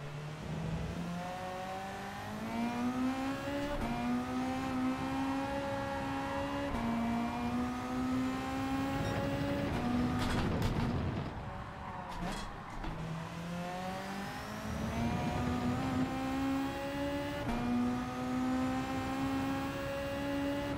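A race car in Gran Turismo 7 drives continuously, its engine note climbing through gears in repeated rising sweeps, with a busy noisy stretch of braking or tire scrub midway, steady and fairly close throughout.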